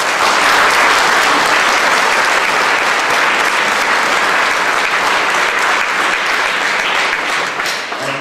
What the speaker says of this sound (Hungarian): akit tapsoljunk meg!